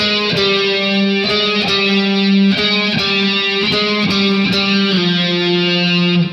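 A heavily distorted electric guitar plays the outro, loud sustained power-chord riffs with steady rhythmic pick attacks and shifting chords, close and continuous throughout.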